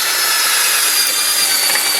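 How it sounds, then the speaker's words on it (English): A power drill bores through hard caps on a piece of scrap, giving a steady, loud, continuous grinding whir that holds without a break and sounds close up, with no talking. "So pretty much have to drill through."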